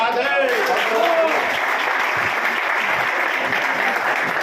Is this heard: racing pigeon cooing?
no